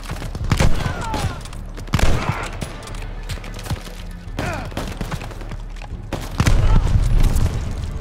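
Battle gunfire in Call of Duty Vanguard, repeated loud rifle shots and heavy booms in irregular bursts, close and dense, with brief shouted voices mixed into the combat.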